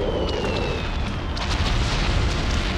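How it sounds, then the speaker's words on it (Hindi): Mortar shells exploding during a ceasefire violation at Indian posts in the Rajouri sector of Jammu and Kashmir, heard as a loud, continuous rumbling roar of blasts with no clear gaps. "भारतीय चौकी पर बरसाए गोले, रिहायशी इलाकों को भी बनाया निशाना।"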